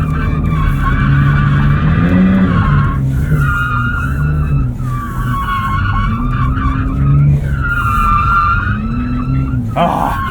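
A 2023 Porsche 911 Turbo S spinning its wheels and skidding at a driving track, with repeated loud tire squeals over a steady engine drone and occasional voices.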